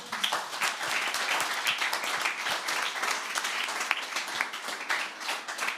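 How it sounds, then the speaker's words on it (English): A conference audience applauds steadily throughout, a dense patter of many hands clapping at close to moderate distance, with no voices rising above it. "we think all of you deserve a big applause"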